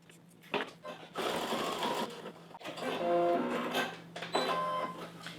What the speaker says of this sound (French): on va aller faire une couture. Une couture et puis on va même en faire une deuxième